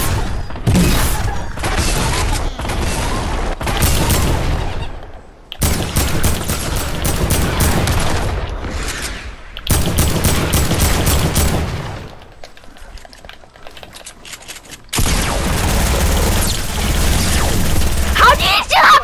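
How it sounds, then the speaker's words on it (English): Video game gunfire as a player shoots down a build: loud, rapid bursts of shots with short pauses between volleys, close and punchy, with a brief quieter gap partway through. "I'm just shooting down a build."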